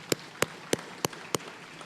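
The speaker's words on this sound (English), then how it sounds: "Give them a round of applause." Five sharp, evenly spaced claps ring out about a third of a second apart at a chamber of commerce luncheon, faint against a quiet room, as if from one or two people.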